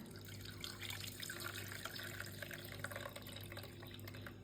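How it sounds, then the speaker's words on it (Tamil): Steady pouring and splashing of boiled drumstick (moringa) stalk water running through a strainer into a pot for soup, continuous with a low background hum. "முருங்கை குச்சி தண்ணிங்க இதை அப்படியே வடிகட்டிக்கலாங்க"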